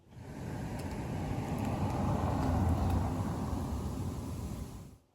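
A BYD Seal car drives along with a spare tyre fitted, a smooth broad road and tyre rumble that fades in, holds steady and fades out over a few seconds.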